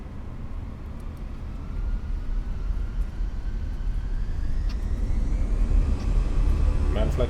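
An Airbus A320 begins its takeoff roll in a flight simulator, a low rumbling engine roar building steadily in loudness over several seconds, with faint rising whine tones layered above.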